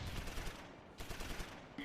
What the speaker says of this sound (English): Got a lot of rifle grenades going on.